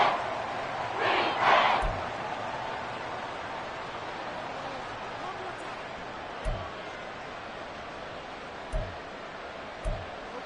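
A football stadium crowd roars during a late-game Vikings goal-line stand, a distant broad wash of noise that swells near the start and then holds as a steady hum, with a few sharp thuds.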